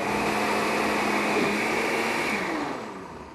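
A blender whirs steadily as it mixes thick tofu sour cream made without any added water, a continuous loud motor drone that eases off slightly near the end.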